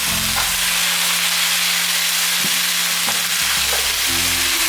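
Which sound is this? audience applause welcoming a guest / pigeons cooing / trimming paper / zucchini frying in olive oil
zucchini frying in olive oil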